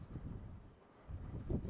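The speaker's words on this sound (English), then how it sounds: "It's very windy." Wind buffeting a microphone outdoors in Idaho, low rumbling gusts that swell and ease, loud and close.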